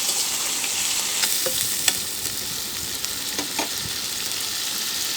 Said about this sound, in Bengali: এবারে আমি সুন্দর করে নেড়ে চেড়ে মিশিয়ে নেব।